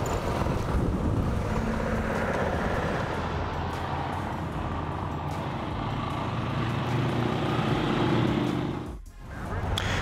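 A Honda CRF450L and a Husqvarna FE501, both 2019 dual-sport motorcycles, roll into a gas station with a steady engine drone and wind rush that eases slightly midway, then dips near the end.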